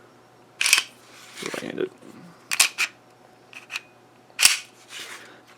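Slide of an HK P30L V1 9mm short-recoil handgun racked during a safety check, giving sharp metallic clacks at intervals, close and clear, with someone talking between them.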